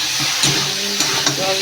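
Potatoes sautéing in a pan for a Bengali fish curry, a steady hissing sizzle with soft stirring scrapes and small clicks, heard close while a person talks over it.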